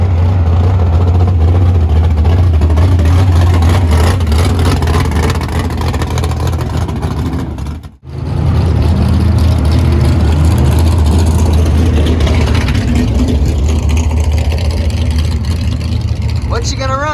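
Race car Blackie running a brand-new 434 motor at US 36 Raceway, giving a steady, loud, low engine drone with a brief dip partway through before it resumes.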